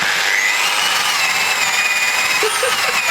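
A corded power drill runs loud and steady with a high whine while working on a BMW E36, the motor labouring with slight shifts in pitch toward the end.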